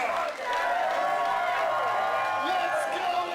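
A wrestling crowd cheers and whoops at a 3-2-1 BATTLE! match, a dense, sustained roar with scattered shouts, while an excited commentator talks over it.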